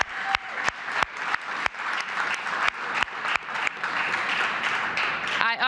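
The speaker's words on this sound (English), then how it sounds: "Give them a big round of applause." An audience at a fire station reopening applauds DC Fire and EMS personnel, with sharp individual claps early that swell into sustained clapping, a voice briefly heard near the end.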